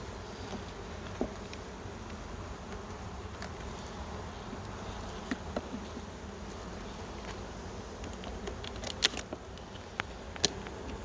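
Honey bees swarm around an open national hive during a full inspection, a steady faint droning buzz throughout with a few small clicks and taps near the end and no talking.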